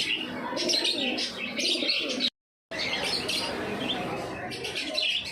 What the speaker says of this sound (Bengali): এখানে যা আছে সবই ম্যাড্রাসি পায়রা